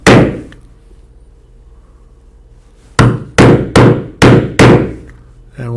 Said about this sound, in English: with the round drive punch, which will be for rivets, and then the slot, 3/4 inch slot, for our straps to come through.